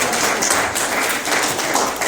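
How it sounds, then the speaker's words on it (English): A church congregation claps briefly, a steady dense patter of hands at moderate level throughout the short stretch. "We'll give them a round of applause."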